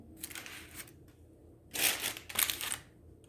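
Two quick bursts of crisp cutting, close up, as pestil (dried fruit leather) is cut after a few softer scrapes, in an otherwise quiet room.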